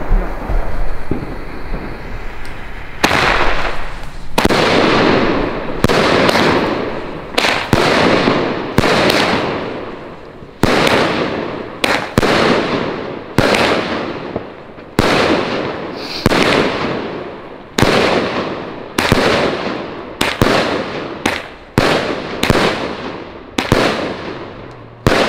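Dense New Year's Eve fireworks and firecrackers burst loud and near in rapid succession, each sharp bang or crackling volley following the last with barely a pause.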